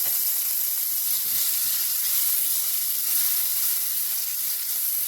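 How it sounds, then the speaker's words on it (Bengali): Potato pieces coated in salt and turmeric fry in hot oil for a pointed gourd and shrimp curry, making a continuous bright hissing sizzle with faint low crackles underneath, no voices. "এই পটল চিংড়িতে আমি অল্প আলুও দিচ্ছি, তাই আলুগুলো ভেজে নিই"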